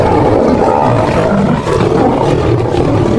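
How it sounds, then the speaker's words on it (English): A big cat's roar rumbles loud and near as a dense, sustained growl with no clear breaks, filling the whole stretch and heard alone without voices. "A roar that shakes the land."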